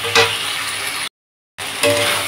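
Meat or fish sizzles and fries in a pan while being stirred and slowly cooked down for a Bengali kosha dish. The sizzle is loud and close and cuts out briefly in the middle.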